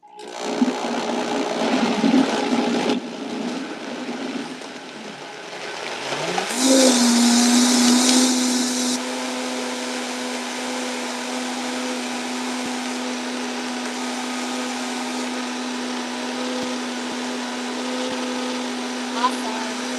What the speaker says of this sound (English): This one, you don't have to fill it all the way up because it's got a narrow blender.